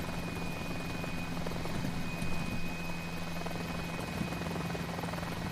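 Mi-8 military helicopters in a flight simulator game give a steady, fairly quiet rotor drone with a continuous engine whine, holding evenly throughout.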